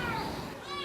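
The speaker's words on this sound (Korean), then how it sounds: "놀랍게도 정말 고양이 울음소리가 들리는데요" A trapped kitten meows from inside a thick concrete drain wall, its thin, wavering cries sounding muffled and close, with a faint child-like voice mixed in over a steady background hum.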